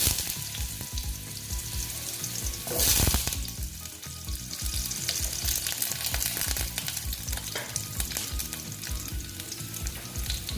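Potato pieces fry in a hot pan, giving a steady, close sizzle with a brief louder rustle of stirring about a third of the way in.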